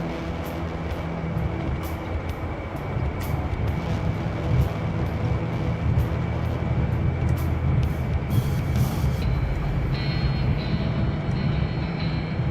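A jet aircraft in a combat flight video game on a Sinai map takes off without afterburner, giving a steady, loud, broadband engine roar that holds evenly throughout with no talk.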